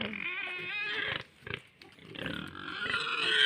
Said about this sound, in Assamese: এইটো হৈছিলে গাহৰি পোৱালি